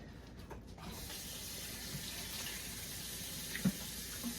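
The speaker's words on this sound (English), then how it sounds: "I'm going to have to add a little bit of hot water to the stovetop just to cover" Hot water running from a kitchen tap while a cabbage broth is topped up for the stovetop, a steady faint hiss of flowing water with a soft knock near the end.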